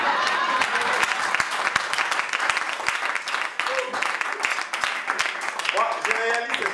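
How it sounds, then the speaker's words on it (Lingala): Applause from a comedy festival audience in Kinshasa, a dense stretch of many hands clapping that swells and holds for several seconds, with voices calling out over it. "Applaudissez pour ma femme."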